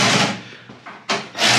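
Power tool tightening bolts on a Toro 1028 snowblower being fitted with a Harbor Freight Predator engine, a close loud whirring drive in several bursts with short pauses and a final rising spin.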